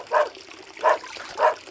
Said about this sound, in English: My dog Sludge was howling.